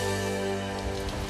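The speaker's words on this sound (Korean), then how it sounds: "예고 없는 빗소리도 익숙한 7월" Steady rain pours down in July, a dense continuous hiss of falling water close by, with no voices.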